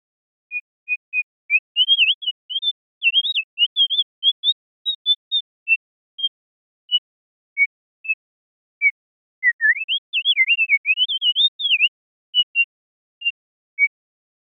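Synthesized bird calls built in VCV Rack with a free module: clean, whistling chirps and warbling trills in short bursts, sparse at first, then a rapid fluttering run, then scattered single peeps against silence.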